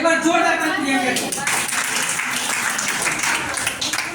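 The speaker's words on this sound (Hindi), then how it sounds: "एक बार जोरदार ताली" An audience breaks into hearty clapping for a participant named Priyanka, a dense wash of applause that follows a brief stretch of speech and carries on steadily.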